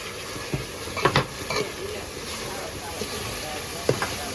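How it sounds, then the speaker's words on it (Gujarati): Chicken masala being stirred as it fries in oil in a desi-style home kitchen, with a soft steady sizzle and a few scraping, clinking stir strokes against the pan at irregular intervals. "હવે આને હલાવી રાખવાનું છે"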